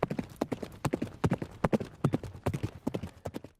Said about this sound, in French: Le cheval fila comme le vent.